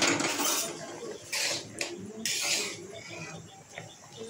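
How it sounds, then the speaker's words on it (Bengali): Metal lid lifted off a pot of boiling banana flower and set back down: a few bright clanks and scrapes of metal on metal, then quieter bursts of bubbling from the pot, close by and without talk. "আমি ঢাকনাটা উঠিয়ে দেখিনি সিদ্ধ হয়েছে কিনা"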